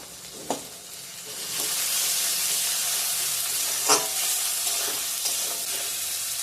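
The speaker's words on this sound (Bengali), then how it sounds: "ফোড়নটা ভাজা ভাজা হয়ে গেছে নরম হয়ে গেছে পেঁয়াজ টমেটো" Onion, tomato and ginger fry in a pan with a steady, fairly loud sizzling hiss, broken by a couple of sharp clanks and scrapes from stirring; no voices.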